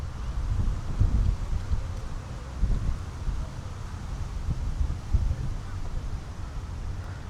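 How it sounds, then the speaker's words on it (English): Blustery wind buffeting a microphone outdoors in a small park in Bluewater, Kent, rising and falling in rough gusts with a rustling, roaring low rush. "This gust has not ended yet."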